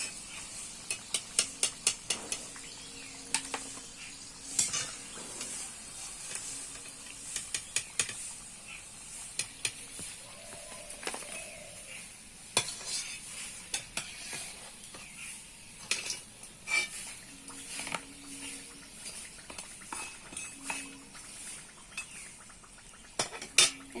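Homemade fried singara (samosas) are lifted out of hot oil, with sharp, intermittent metal clinks of a utensil against the pan and a faint hiss in a quiet kitchen.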